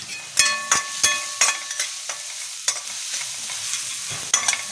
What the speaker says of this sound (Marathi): हे थोडं भाजून घ्यायचं